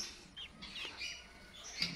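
White-rumped shama chicks chirp while being fed ant-egg larvae. Their thin, high tweets come in short, faint bursts close by.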